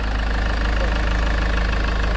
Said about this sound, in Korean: 엔진 소리 쭉 들려드릴게요